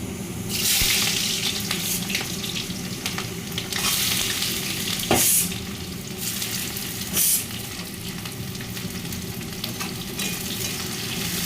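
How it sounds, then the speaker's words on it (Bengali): Chopped onion frying in hot mustard oil in a heated wok, a steady loud sizzle with occasional stirring scrapes and brief louder bursts. "কড়াটা গরম হয়ে গেছে, তো কেটে রাখা পেঁয়াজটা আমি তেলে দিয়ে দেবো।"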